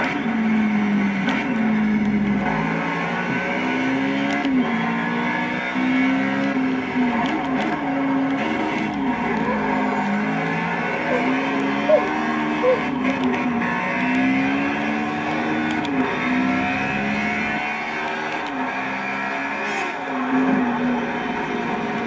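A race car engine in the Project Cars racing game runs steadily with a rising and falling whine as it shifts through gears, loud and continuous with no talking.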